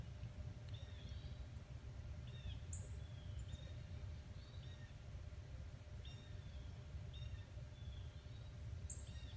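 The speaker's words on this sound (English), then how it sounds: "You hear that bird?" Faint, distant birdsong outdoors: short high chirps and whistled notes recur every second or two over a steady low rumble of wind or traffic.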